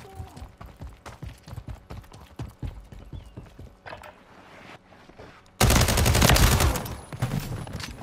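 Gunfire in Call of Duty Modern Warfare 3 comes as rapid bursts of shots and thuds, then a loud sustained roar of sound near the end, close and continuous without voices.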